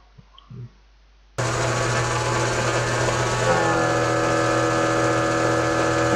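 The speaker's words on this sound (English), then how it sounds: "DC motor is turning and turning the generator in just idle mode." DC motor turning a generator at idle in a homemade generator rig, a sudden start into a steady loud hum and whine that continues unbroken after a quiet moment with faint knocks.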